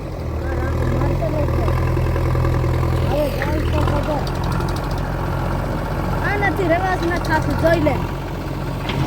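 A tractor engine idles with a steady low rumble throughout while several people talk nearby over it.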